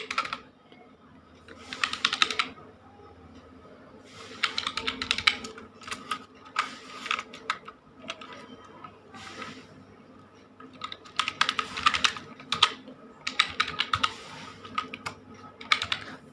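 A UAN number and password are typed on a computer keyboard into the PF passbook login, with quick clattering bursts of keystrokes broken by short pauses, close and moderately loud.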